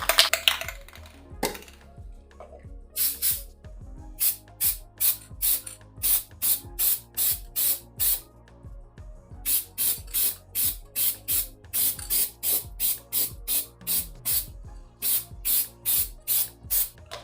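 An aerosol spray paint can is sprayed onto a car body being repainted after rust removal, giving repeated short bursts of hissing spray in a steady rhythm, close and loud, with faint clicks between bursts.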